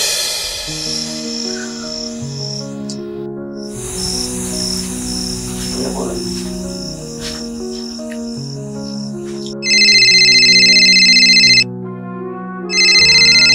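A mobile phone ringtone for an incoming call sounds as two loud electronic melodic bursts with a short gap between them. Soft background music and steady cricket chirping run underneath.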